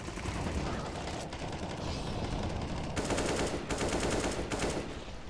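Sustained rapid gunfire in a CS:GO competitive match, a steady rattling stream of shots that grows denser partway through, with players talking over it.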